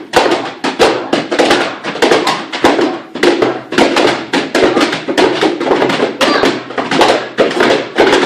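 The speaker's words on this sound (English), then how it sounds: "Walk with our feet and play walking notes with our drums." Children tap hand drums in an even walking pulse, a steady run of close, fairly loud hits with brief gaps between phrases.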